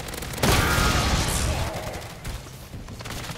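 Burst-fire gun in MW3 Zombies: a loud, close crash of rapid shots starting abruptly, a sustained blast that fades over about a second, followed by quieter scattered shots.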